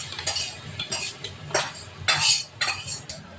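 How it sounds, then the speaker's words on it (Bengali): A spoon stirs masala into coconut chutney in a bowl, giving a run of soft scraping, clinking strokes close by, uneven in rhythm with a few louder swipes, and no talking. "এবার ভালোভাবে মিশিয়ে নিচ্ছি নারকেল চাটনিটা।"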